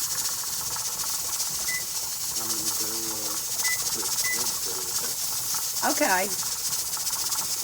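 Pressure canner processing ground chuck hisses with a constant, steady rush of steam in the background, while people talk briefly over it nearby.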